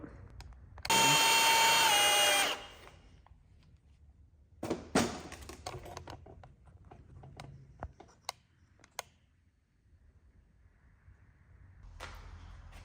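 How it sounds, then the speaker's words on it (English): A power drill whines loudly for about two seconds, followed by scattered metallic clicks, taps and scraping as the bit works at a stuck, rounded bolt on a Saab. "I'm just gonna see what happens if I drill it."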